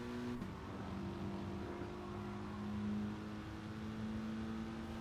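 Mitsubishi Lancer Evo engine in Gran Turismo Sport at Interlagos, a steady droning tone that shifts pitch as the car comes onto the throttle, loud and continuous with no talk.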